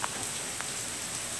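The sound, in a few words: heavy rain pouring down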